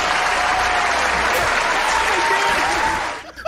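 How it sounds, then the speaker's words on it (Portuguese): Loud crowd applause erupts during a Rainbow Six gaming stream, a dense continuous clatter of clapping that holds steady before cutting off abruptly near the end. "Aplausos!"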